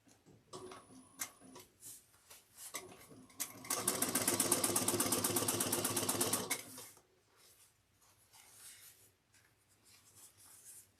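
A sewing machine topstitches a backpack seam in one sustained run of fast, steady needle clatter lasting a few seconds, with quieter handling and fabric rustle before and after.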